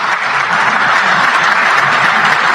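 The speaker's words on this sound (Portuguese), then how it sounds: "Aplaudir mesmo." A crowd applauds after a political speech, steady dense clapping that holds evenly throughout with no voices over it.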